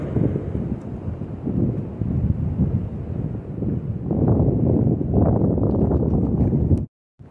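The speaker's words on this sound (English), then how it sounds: "It is getting windy." Wind buffets the microphone in low, rumbling gusts on a mountain hiking trail in the Appalachians, growing stronger midway, then cutting off abruptly just before the end.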